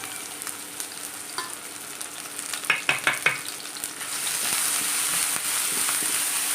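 Steady frying sizzle close by as banana pieces sauté in ghee, with a few clattering stirs of a spoon in the pan partway through, the hiss growing louder toward the end.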